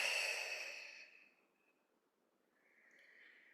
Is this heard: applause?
no